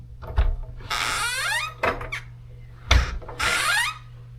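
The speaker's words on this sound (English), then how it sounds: "let's see if we can hear this hinge" A squeaky hinge on a garage service door gives a series of drawn-out, high-pitched squeals as the door swings, with a few dull knocks between them, loud and close.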